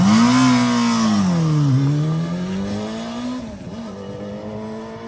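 A 1988 Honda CBR250R motorcycle engine revs up close and loud, its pitch climbing and falling in a wavy sweep, dipping twice before easing off toward the end, with no voices.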